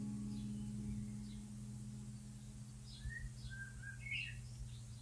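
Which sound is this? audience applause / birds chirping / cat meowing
birds chirping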